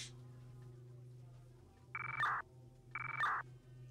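Two short bursts of phone keypad dial tones from a Roblox game, each about half a second, heard over a quiet low hum.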